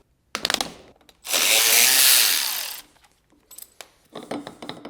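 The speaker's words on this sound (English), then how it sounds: "Now we're gonna unbolt the drive shafts." Power tool bursts while unbolting the drive shafts on a BMW E46 330i: a short rattling burst, then a long loud whirring run of about a second and a half, followed by lighter clinks and scattered tool noises.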